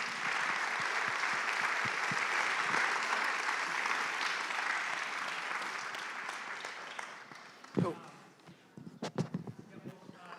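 Audience applause after a lecture, a dense sustained roll of clapping that gradually thins and dies away, followed by a few bumps, scattered claps and a voice beginning to speak.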